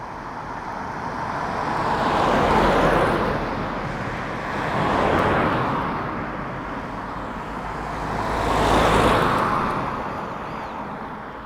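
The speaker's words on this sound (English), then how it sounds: "Countryside in Denmark, so many cars." Cars pass one after another on a countryside road in Denmark, each swelling from afar to a close whoosh and fading, three passes over steady road and wind noise with no talking.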